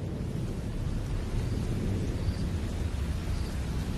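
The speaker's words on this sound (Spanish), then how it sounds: "La lluvia invernal es insólita en Botswana." Winter rain falls steadily in Botswana, a dense hiss of downpour with a low rumble of thunder underneath, continuous and fairly loud with no voices.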